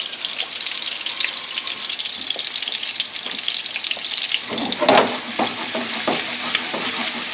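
Chicken meatballs sizzle and fry steadily in a pan with smoke-flavored virgin olive oil, a continuous crackling hiss with a louder burst of spattering and clatter midway as the pan is shaken.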